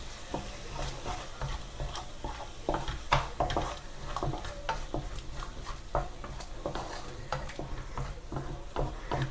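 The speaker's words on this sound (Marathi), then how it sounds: "त्यानंतर असं मिक्स करून घेते सर्व." A spoon stirs peas and paneer masala in a pan, scraping and knocking against the metal in irregular strokes over a soft, continuous sizzle of frying, close up with no talk.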